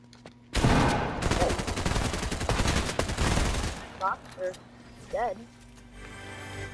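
Dense rapid gunfire from a shooter video game rattles loudly for about three seconds, then stops, followed by a person talking over quieter game sounds.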